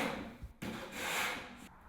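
Short abrasive rubbing strokes remove the sharp edges of a Novasonar acoustic panel, close and fairly quiet, with two brief breaks between passes.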